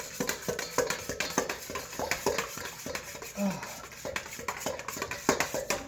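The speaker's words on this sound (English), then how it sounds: "Grab my spoon, and I'm going to mix this together until it's folded" A spoon mixing an egg into a batter in a bowl for a homemade coffee cake, giving a steady run of quick soft taps and scrapes against the bowl, close but fairly quiet, with no talking.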